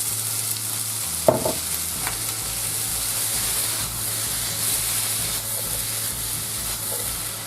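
Mushrooms sizzling as they drop into browned butter in a frying pan on the highest heat, a steady close frying hiss with a brief splash of stirring near the start, no voices.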